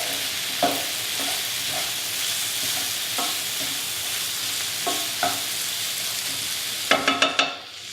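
Food frying in a pan for a chicken couscous dish is stirred, giving a steady close sizzle with several sharp scraping clatters, clustered near the end. No one speaks.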